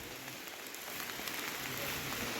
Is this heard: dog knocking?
no